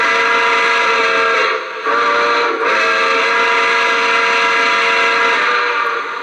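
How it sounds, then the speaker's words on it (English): Steam whistle of a Lionel Legacy NYC Empire State Express model train, a loud sustained chord-like blast lasting several seconds with two brief dips in the middle, close and alone. "So come on, that just sounds like 1941 steam rolling around, right? So that's a fantastic whistle."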